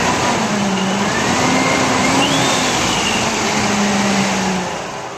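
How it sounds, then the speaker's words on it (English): A supercharged truck engine fitted with Comp Cams Evolution lifters revs inside a garage, with its exhaust piped outdoors. It gives a loud, steady, broadband roar with a dull gear growl and a rising whine as it rises and settles. "You can hear a little bit of dull growl from the supercharger gears."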